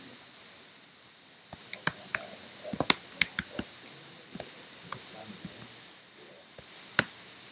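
Typing on a computer keyboard during a programming session, a run of close, sharp key clicks in irregular bursts with brief pauses.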